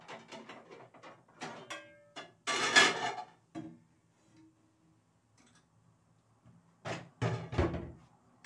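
An oven door thuds shut after a tray of chicken and vegetables goes in, a couple of clattering knocks and bumps close by in a quiet kitchen, with brief rattles before and after.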